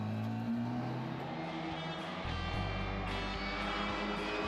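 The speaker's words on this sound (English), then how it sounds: "Oscar clips that car and adds the first dent to the race Mini" An engine drones steadily from a race Mini car on a racing track, loud and sustained, with shifting pitch as it accelerates and changes gear.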